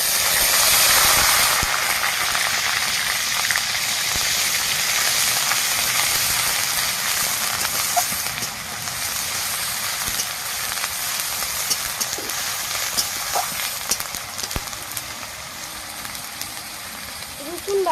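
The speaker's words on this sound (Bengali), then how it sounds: "আর তেলও গরম হয়ে গেছে। এবার দিয়ে দেব 5 ফোঁড়ন, পেঁয়াজ বাটা," Panch phoron spices and onion paste hit hot oil in a pan, giving a loud steady sizzle and hiss that fades a little partway through and keeps crackling softly, with a voice speaking over it.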